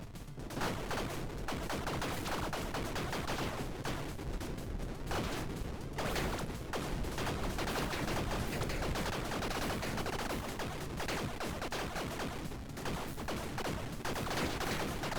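Dense, continuous rapid gunfire and blasts from the video game Tiny Rogues rattle on without pause, a chaotic, loud barrage of shots and explosions with no speech.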